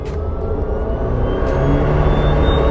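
A 2018 Karma Revero hybrid car accelerating hard in sport mode, a loud steady engine drone and road rumble heard from inside, with the pitch rising slightly over a few seconds.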